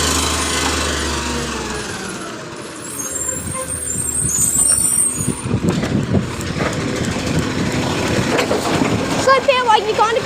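Leeton spare 657 garbage truck working a residential route, its diesel engine rumbling with hissing air brake releases and clanks, loud and close, while crew members talk over it.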